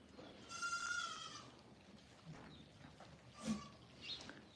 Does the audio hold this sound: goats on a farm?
yes